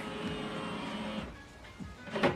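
An HP OfficeJet 8012e inkjet printer hums and whirs mechanically while scanning, with a carriage sliding and a few soft clicks, fairly close and steady with no talking.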